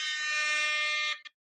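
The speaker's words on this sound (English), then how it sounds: "I freshly downloaded air horn sound effect." A blaring air horn sound effect played from a phone app, one sustained loud honk about a second long that cuts off abruptly, followed by a tiny short blip, with no voices.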